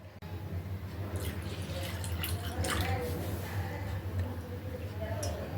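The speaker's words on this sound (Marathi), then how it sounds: "आता आपण त्यामध्ये पाणी टाकणार आहोत" Water poured over washed mung dal in a bowl gives a low, steady running and splashing sound with light drips, fairly faint and continuous under a background hum.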